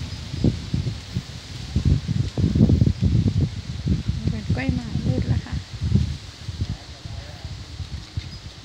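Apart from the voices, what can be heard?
cool evening wind rustling leaves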